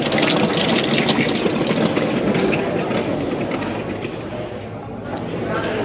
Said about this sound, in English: We've got a traditional little tap here, used to wash your hands.